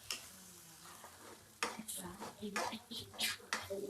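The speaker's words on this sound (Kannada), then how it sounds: "ಸೊ ಇದನ್ನ ಎಗ್ ಬುರ್ಜಿ ಅಷ್ಟು ಕನ್ಸಿಸ್ಟೆನ್ಸಿನಲ್ಲಿ ಫ್ರೈ ಮಾಡ್ಕೋಬೇಕು" Eggs scrambled bhurji-style in a pan for egg rice: a soft background sizzle broken by several sharp spatula scrapes and clanks against the pan, close and fairly quiet.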